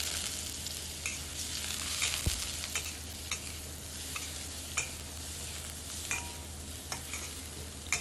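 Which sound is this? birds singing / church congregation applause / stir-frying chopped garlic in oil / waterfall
stir-frying chopped garlic in oil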